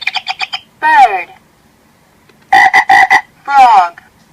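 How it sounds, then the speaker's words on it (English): Frog croaks from a children's animal-sound toy come in fast rhythmic bursts of pulsing ribbits, interspersed with longer warbling croaks, loud and close against a quiet background. "Frog."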